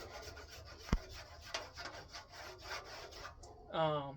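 Hand saw working through ash wood, the blade a little rusty and starting to stick, giving steady rasping strokes close by, with a sharp knock near the start and a brief squeak at the end.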